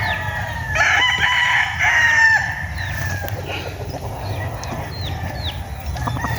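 A rooster crows loudly nearby while other chickens cluck and call around it, over a steady outdoor background.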